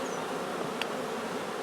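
Honeybees in a small, newly split colony of three frames buzz in a dense, steady drone close by, loud and continuous with no talk.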